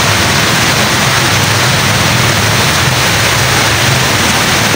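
Steady heavy rain falling outdoors among plants, a dense, even hiss of rainfall that stays loud and unbroken throughout, with no voices.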